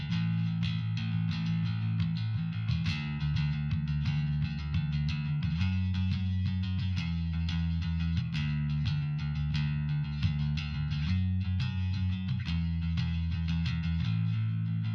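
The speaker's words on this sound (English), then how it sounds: "what you're hearing is the bass DI running through a bass amp sim" A gritty, amp-colored bass guitar plays a steady, continuous line of low notes, slightly distorted and up front, with no talking.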